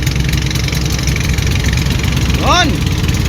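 Boat engines drone steadily at sea, a loud continuous low rumble and hum throughout, and a short rising-falling whoop cuts through briefly near the end.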